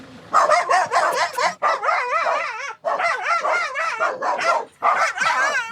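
Several dogs bark at a home in a war-affected town near Kupiansk, a loud, close string of rapid yapping barks in bursts with short pauses between them, some higher yips mixed in.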